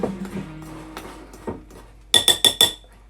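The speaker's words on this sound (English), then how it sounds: "you want just a regular blunt table knife to stir all this together" Blunt table knife stirring a gluten-free cheese scone mix of flour in a bowl gives scattered soft taps, then four sharp, quick clinks close by near the end, with no talking.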